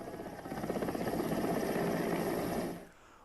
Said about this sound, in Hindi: युवक को निकालने के लिए M17 हेलीकॉप्टर को बुलाया गया